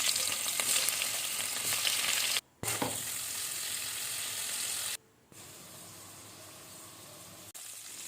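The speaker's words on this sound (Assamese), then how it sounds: "এয়া পনীৰখিনি মই নিমখ হালধি সানি লৈ ফ্ৰাই কৰি লৈ ল'লোঁ।" Paneer coated with salt and turmeric fries in oil with a dense, bright sizzle, interrupted by brief abrupt gaps of near silence, heard close and without speech.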